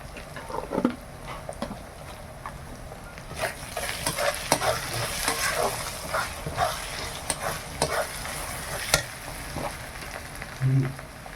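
Ginger, garlic and chili powder fry in a pan, a continuous close sizzle with repeated scraping and clattering strokes as the spice mix is stirred, and a faint dog bark far off.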